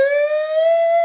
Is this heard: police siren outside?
yes